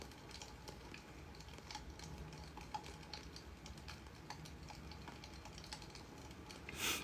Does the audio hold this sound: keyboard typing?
yes